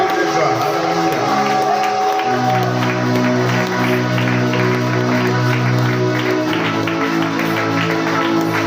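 A church congregation claps and cheers joyfully through a worship song, with dense, sustained applause and shouts layered over steady music for the full length.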